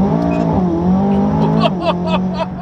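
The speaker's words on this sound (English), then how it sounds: "That was Peyton's first acceleration, I think, with the new tune" Tuned McLaren 570S sports car under hard acceleration, heard from inside as a loud continuous engine drone with rising pitch and quick upshift changes, a passenger voice faintly beneath.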